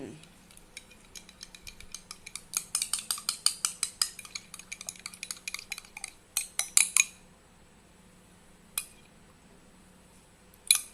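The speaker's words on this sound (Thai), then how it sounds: "แล้วก็คนเนาะคนให้เข้ากัน" Stirring homemade alcohol hand gel with added colouring, a run of light, rhythmic clinks and scrapes of a utensil against a container, fairly close and moderately loud, with a few isolated taps near the end.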